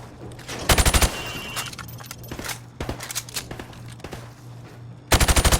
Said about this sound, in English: I want you to shoot the targets through the wood